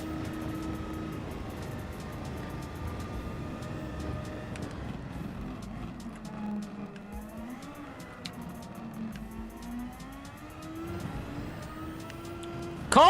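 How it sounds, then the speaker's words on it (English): A car engine in Gran Turismo 7, during a Super License test, hums and shifts pitch as it revs and settles, mid-level and continuous, with brief clicks and a sharper rise near the end. "I can hear the car now."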